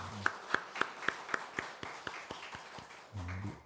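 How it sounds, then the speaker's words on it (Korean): A church congregation claps in unison, producing a faint, evenly spaced run of a dozen or so sharp claps in a quick, steady rhythm. "하나님께 영광의 박수를 드립니다"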